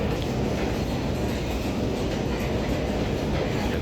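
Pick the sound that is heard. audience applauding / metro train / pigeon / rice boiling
metro train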